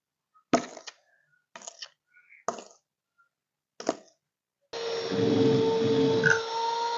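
An electric hand beater mixes eggs, margarine and sugar for a birthday cake, running as a steady, loud whir in the last two seconds after several brief knocks and clatters.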